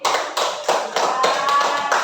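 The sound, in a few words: class clapping for a student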